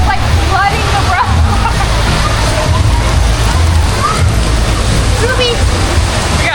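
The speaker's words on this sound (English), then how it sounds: "So big rain. Now we stuck here." Heavy rain pours onto a road in Thailand, a loud, steady, dense wash that floods the street and carries on without a break while faint voices come through underneath.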